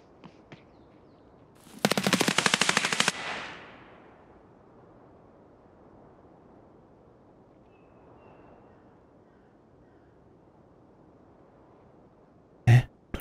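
A rapid automatic burst from a gun in Escape From Tarkov on the Streets of Tarkov map, loud and crackling for about a second, then a long quiet stretch and one sharp single shot near the end.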